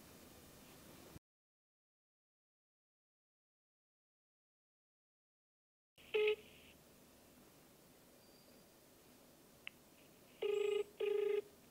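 A telephone ringing for an incoming call, faint hiss broken by a long silent gap, then short electronic ring bursts, one near the middle and two more close together at the end.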